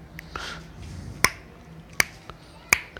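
A demon in the Duels RPG game claps slowly, three sharp, isolated claps spaced evenly about three-quarters of a second apart over a quiet room.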